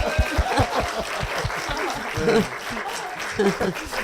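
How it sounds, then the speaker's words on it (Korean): A church congregation claps together, dense rhythmic clapping mixed with light chuckles and voices that thins briefly toward the end. "박수 치세요."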